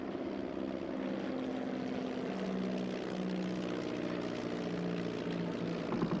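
A Sopwith Camel fighter biplane's engine drones steadily at a fair distance, a low, even propeller hum with slight shifts in pitch and no voices.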